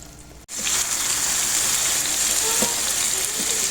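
An egg goes into a nearly finished simmering pasta sauce, and a loud, even sizzling hiss starts abruptly and carries on steadily up close without talk.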